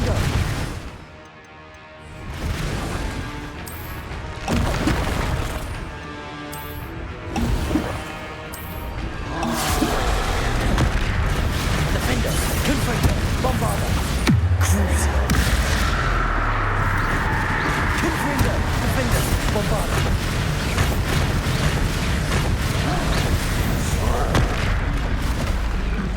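Confringo fire-spell blasts in the Hogwarts Legacy video game: repeated booming impacts during combat, then a dense, sustained roar of fiery explosions and noise, with a voice calling out spells.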